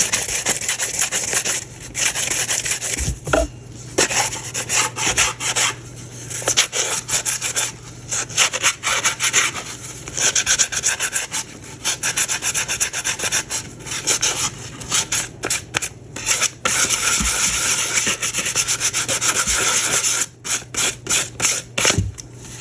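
Sandpaper rubs over an epoxy-coated, vinyl-wrapped tumbler to rough up the surface, a close, continuous scratchy rasping with rapid back-and-forth strokes and brief pauses.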